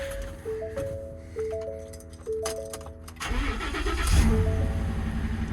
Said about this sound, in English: Let's see if this 2020 Ford will crank up.